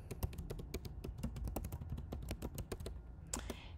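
Fingers type steadily on a computer keyboard while entering a prompt into CLO3D's AI fabric print generator, a quick irregular run of close, crisp key clicks ending with a firmer press of the return key.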